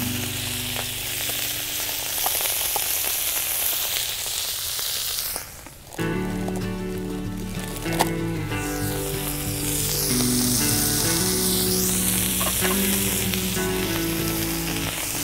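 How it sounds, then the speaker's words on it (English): Chopped ribeye steak sizzles loudly in an 18-inch plow disk pan, a dense, steady hiss that flares up as the meat goes in and keeps crackling throughout, with no talking. "Now it's time to add our chopped up ribeye steak."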